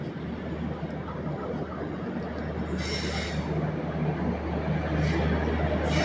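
A train hauled by a WAP-4 electric locomotive passes near Bhuvanagiri, a steady rolling rumble of wheels on rail with rising clatter toward the end, heard from a moving train.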